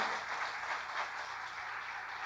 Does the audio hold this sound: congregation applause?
yes